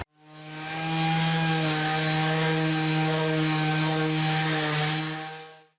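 Steady power sander with a strong low hum and tonal whine works 180-grit paper over rock slider trim from a 1984 Jeep CJ7, running continuously and loud throughout with no talk.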